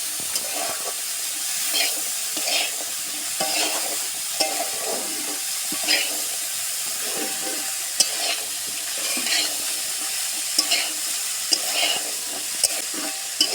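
Kabuli chickpeas and potatoes sizzle and fry steadily in a pan while a utensil stirs and scrapes, with occasional sharp clinks against the metal.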